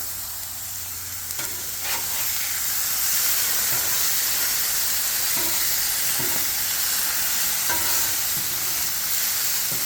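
Stir fry sizzling in a hot pan, a steady broadband hiss and crackle running throughout, with a few brief clinks or stirring knocks over the top and no talking.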